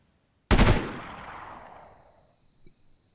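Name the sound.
gunfire shooting enemies in the video game Delta Force 2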